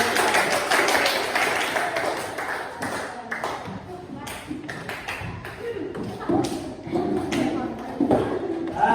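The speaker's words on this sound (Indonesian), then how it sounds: "Tepuk tangan untuk kelompok 2" Students in a classroom clap for a presenting group. The clapping is scattered and moderately loud with uneven, irregular taps, and it thins out and then picks up again across the stretch.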